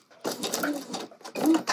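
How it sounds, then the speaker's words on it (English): A sewing machine runs in two short bursts of stitching along a line of crepe de chine fabric, close and moderately loud with a brief pause between runs. "I'm gonna stop my line of stitching right at that second notch on the other side."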